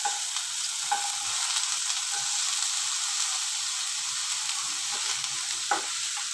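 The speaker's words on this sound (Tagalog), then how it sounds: "So, dito sa gilid, ilagay natin yung ating sibuyas." Onion and garlic fry in a pan for a stir-fried eggplant adobo, with a loud, steady, close sizzle and occasional stirring scrapes throughout.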